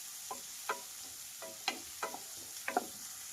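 Two medium onions, finely chopped, frying in butter in a pan: a quiet, soft sizzle broken by about half a dozen short, separate scrapes of stirring.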